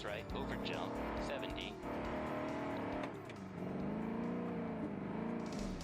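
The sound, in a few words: Group B rally car engine at low throttle, from a video game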